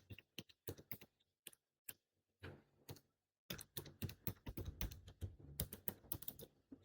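Rapid keystrokes on a computer keyboard as a username and password are entered, coming in short irregular bursts with brief pauses, then a denser, quicker run of typing toward the end.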